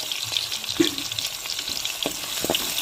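Sliced onion and green chili sautéing in hot oil with whole spices for green peas rice, a loud, close continuous sizzle with scraping stirring strokes and occasional pops, no voices.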